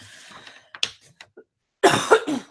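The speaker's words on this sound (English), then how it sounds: "I hate this cough." A few quiet throat noises build to a single harsh, close cough near the end, with brief silences in between.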